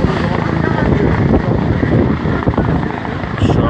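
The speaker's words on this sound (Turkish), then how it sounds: "Şu anda helikopterler geziyor." Helicopters circling over a street scene after an explosion and armed clash in Izmir, a loud, steady rotor roar that fills the whole clip, with voices over it.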